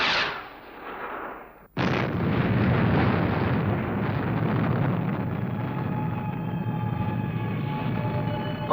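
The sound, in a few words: rocket engine ignition and launch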